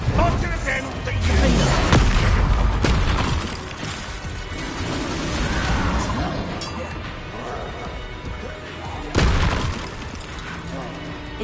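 Fire and explosion spells from Hogwarts Legacy burst in rapid succession, booming blasts and crackling impacts layered over game music, with a loud blast near the end; no talk beneath the effects.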